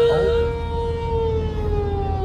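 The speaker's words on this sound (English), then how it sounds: "It's tornado siren." A civil defense tornado warning siren wails steadily and loudly during a large storm in Colon, Michigan, a sustained tone slowly sliding in pitch.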